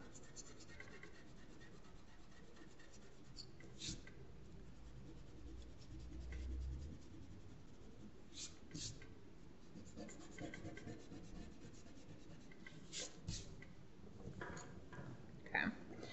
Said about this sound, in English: if you did draw anything in there, I would erase it out